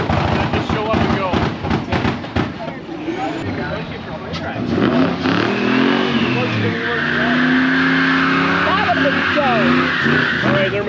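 Drag race car at a Drag Week event accelerating hard down the strip, loud engine roar rising and sustained for several seconds, preceded by crowd noise and people talking nearby.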